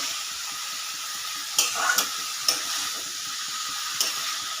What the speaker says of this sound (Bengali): ভালো করে বাঁধাকপির সঙ্গে আলু মশলা সব মিশিয়ে কড়াই কষে নেবো ভালো করে।